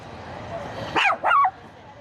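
A dog gives two quick, close barks over a low background hum, the second slightly longer than the first.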